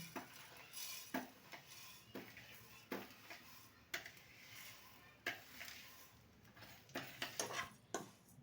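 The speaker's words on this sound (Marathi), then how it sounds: "आता याच्यामध्ये तेल वगैरे काही टाकायचं नाही असंच आपण याला भाजून घ्यायचं" Flaxseeds dry-roasting in a hot pan without oil, stirred with a utensil that scrapes and clinks against the pan at irregular intervals over a faint low sizzle, quiet and close.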